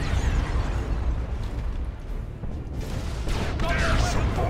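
Heavy turret fire in Warhammer 40K Dawn of War II: Retribution, dense booming blasts and bursts rolling continuously over loud battle din, with a brief dip before heavier impacts return.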